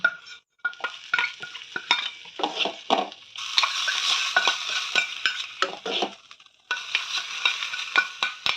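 A spoon stirs chopped banana flower with salt, turmeric and ground dried red chilli in a pan, giving quick close-up scrapes and rustles in irregular bursts, with a louder, denser stretch in the middle and after a brief pause.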